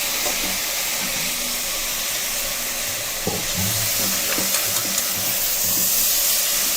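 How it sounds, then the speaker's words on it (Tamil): Soaked cowpeas sauté with onions in a pan in a South Indian kitchen, giving a steady hissing sizzle with occasional soft stirring clinks and scrapes, close and unbroken by speech. "லைட்டாக இப்போ தட்டைப்பயிர் வந்து வெங்காயத்தோடு வதங்கணும்"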